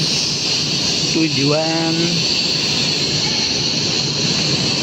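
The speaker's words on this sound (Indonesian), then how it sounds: "Nah ini baru datang nih keretanya, komuter lain" A commuter train pulls into the old Dutch-era Tanjung Priok station in Jakarta, sounding a short rising horn blast over steady station rumble, while people talk nearby.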